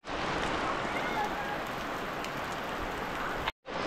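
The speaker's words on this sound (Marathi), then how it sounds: "पण आज बघा जोरात पाऊस आला" Heavy rain falling in a Konkan downpour, a dense close hiss of drops on surfaces that stays steady and loud, then cuts off briefly near the end.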